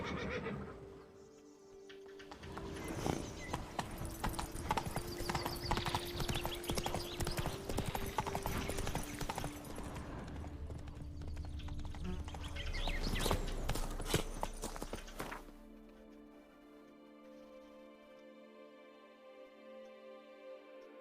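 Roach, Geralt's horse in The Witcher 3, clip-clops with steady hoofbeats and whinnies loudly partway through, then the hooves fade out and leave quieter game ambience.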